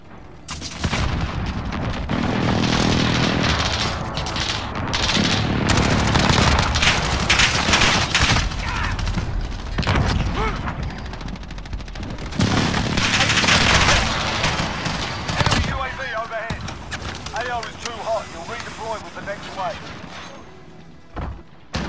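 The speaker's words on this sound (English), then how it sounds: "Enemy precision airstrike," A precision airstrike and heavy gunfire in the video game Modern Warfare: sustained loud fusillades, machine-gun bursts and booming explosions rolling continuously, with in-game voices calling out over the combat.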